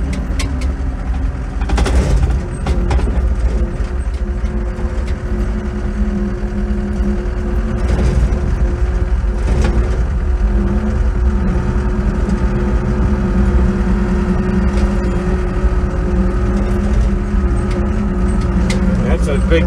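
A tractor engine rumbles steadily while driving down a steep driveway, a continuous low mid-pitched drone filling the whole stretch, close and loud, with someone talking over it throughout.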